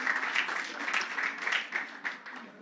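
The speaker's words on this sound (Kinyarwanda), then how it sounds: "amashyi" An audience applauds students at a school exam awards ceremony, with steady dense clapping from a crowd that carries on evenly throughout and no voices over it.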